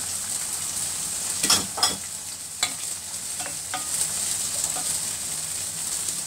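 Ginger strips fry in a pan for peas pulao, giving a steady bright sizzle with a few clinks and scrapes of stirring, with no talking.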